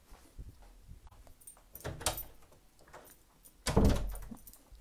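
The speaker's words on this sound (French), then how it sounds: "je crois qu'il y a Pépette qui toque à la porte." Pépette, apparently a dog, knocks and scratches at a door indoors, with a few faint thumps and then a louder bumping clatter near the end, no voices over it.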